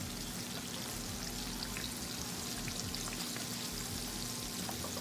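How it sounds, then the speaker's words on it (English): Short ribs frying in a pan give a steady, dense sizzle and crackle throughout, close and fairly quiet, with no talking over it. "And put it in the pan to fry."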